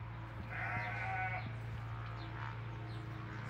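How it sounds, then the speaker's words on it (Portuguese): Sheep bleating on a rural farm, a faint wavering call rising over a steady low hum, with a couple of softer bleats following in the background. "Os carneirinhos berrando ali."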